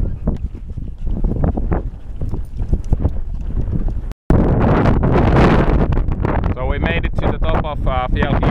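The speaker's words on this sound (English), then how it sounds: "The wind is quite strong" Strong gusty wind buffets the microphone on the exposed 546-metre fell top of Kiilopää in Urho Kekkonen National Park, Lapland, rumbling unevenly at first and then becoming a loud, continuous roar after a brief cutout.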